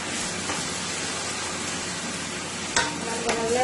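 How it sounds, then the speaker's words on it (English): Eggplant sizzles and crackles steadily in hot oil with a little added water, a constant close hiss with a few sharper pops near the end. "I'm going to let this been frying now for about 3 minutes into the oil"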